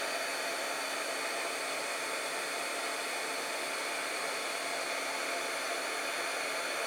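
A heat embossing tool blows hot air in a continuous, even roar, loud and close with no pauses or talk.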